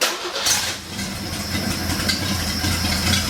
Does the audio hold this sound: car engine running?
yes